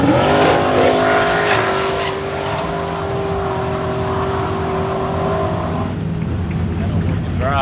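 A race car on a no-prep drag racing run at a hollar track, its engine a loud, steady roar and whine through high gears that fades into the distance, with people talking under the noise.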